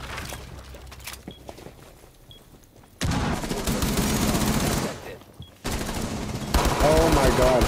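Rainbow Six Siege gameplay: quiet ambience with faint taps gives way to loud, sustained bursts of automatic gunfire, separated by a brief lull before the shooting resumes.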